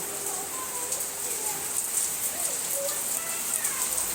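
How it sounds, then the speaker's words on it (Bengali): Rain falls steadily, a continuous soft hiss with scattered drips on nearby surfaces, and a faint bird call in the background. "এটা দেখাই তোমাদেরকে বৃষ্টি হচ্ছে"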